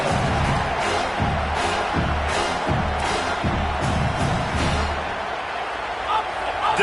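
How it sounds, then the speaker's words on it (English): A football stadium crowd at a game against Minnesota roars steadily on third down, a dense sustained wall of cheering with rhythmic stomping or clapping beneath a commentator's voice. "Decibels rising as the crowd gets behind this defense on 3rd down."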